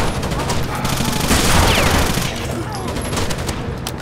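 Dense blind-fire bursts in Rainbow Six: Vegas 2, loud rapid automatic shots overlapping almost continuously with a swell of heavier fusillade in the middle and sharp cracks toward the end.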